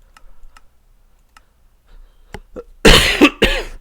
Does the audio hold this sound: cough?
yes